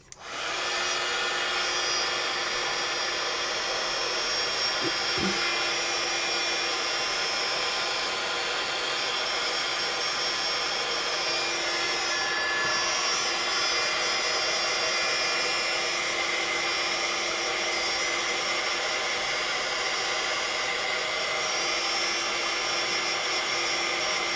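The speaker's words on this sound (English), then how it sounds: "so I might just hit it with my heat tool" A loud, steady blowing whir of a heat tool runs continuously from start to finish, with a constant airy roar and no talking.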